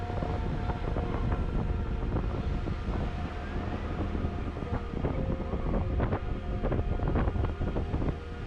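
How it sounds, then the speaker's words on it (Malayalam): Cool wind blowing in off the sea at a crowded beach near a temple at Thiruchendur, a steady broadband rush with buffeting gusts on the microphone and a low hum underneath throughout. "കടലിൽ നിന്ന് നല്ല തണുത്ത കാറ്റ് വരുന്നുണ്ട്"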